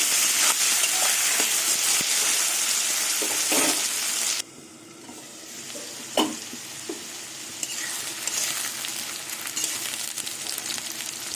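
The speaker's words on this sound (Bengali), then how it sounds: "এবার আলু পেঁয়াজ দিয়ে ভালো করে ভেজে নেব" Steady, loud sizzling of potatoes and onions frying in a pan, with occasional stirring scrapes and a brief dip in intensity midway.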